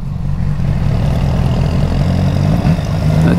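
A Yamaha R6 motorcycle engine idles steadily nearby, a loud, even chugging rumble with no voices.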